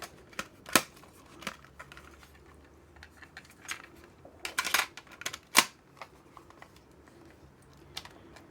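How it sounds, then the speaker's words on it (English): A cassette tape pushed into a Sony Walkman with a faulty belt: a series of sharp plastic clicks and taps, scattered over several seconds, close and fairly quiet, with no talking. "Let's pop a tape in."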